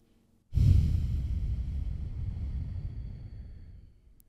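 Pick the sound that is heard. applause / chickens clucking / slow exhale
slow exhale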